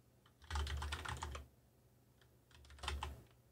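Two quick bursts of typing on a computer keyboard, close and crisp, clusters of key clicks separated by a second of quiet.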